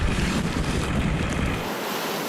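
Ocean waves and howling wind from a storm surge during the 2015 blizzard on the Massachusetts coast at Marshfield, a loud roaring wash with heavy wind buffeting the microphone.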